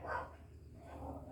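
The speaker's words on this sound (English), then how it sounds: "pardon the neighbor's dogs" A neighbor's dogs bark in the distance, a couple of faint muffled woofs over low background rumble.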